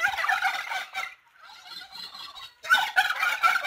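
Turkeys on a bird farm in Pakistan gobble in loud, rapid bursts from close by, with a quieter stretch of calling in the middle before another burst of gobbling.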